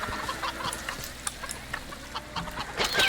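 Chickens in a farming video game cluck in quick, scattered bursts over a soft background, fairly close and moderately loud.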